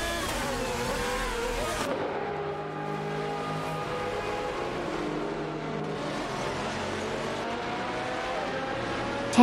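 Race car engines rev and whine through a motor race, a continuous loud roar with rising and falling pitch and a car passing, and no voices.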